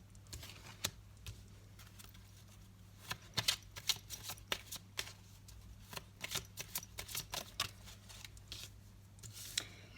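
Playing cards are shuffled repeatedly nearby, giving bursts of crisp riffling and flicking over a steady low hum, with no speech.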